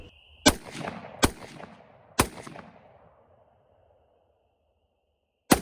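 Three sharp rifle shots crack out across an open field at uneven intervals, each trailing off in a rolling echo, followed by a fourth distant report after a pause; the rifle carries a mounted Fenix TK30 flashlight.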